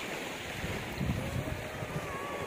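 Sea waves washing onto a beach in Tamil Nadu, a steady broad rushing wash with wind noise on the microphone, fairly constant and moderately loud with no talk.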